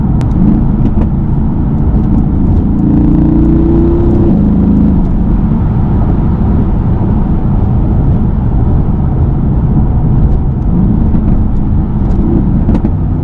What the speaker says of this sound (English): Oh my god, those downshifts.